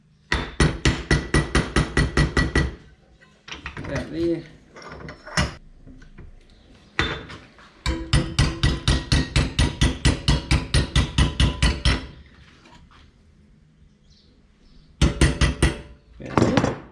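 Rapid bursts of metallic hammer blows on sheet metal, loud and close, in several fast runs separated by brief pauses and a few clanks, during rust repair on a 1951 Chevy Fleetline.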